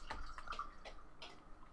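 In a video game bathroom, water makes faint, scattered splashes and drips, a few soft wet bursts against a quiet room hum.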